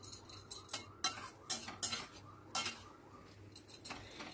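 A spoon stirs masala with yogurt and water in a pot, giving a series of distinct metallic clinks and scrapes against the pot at an uneven pace, quiet and close, with no talking.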